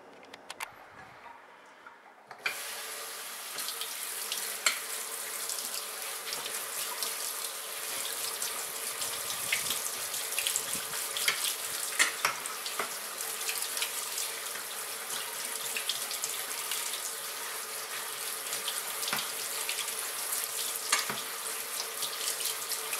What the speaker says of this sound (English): I'm going to give them a little rinse under the sink to get most of the grit and grime off of them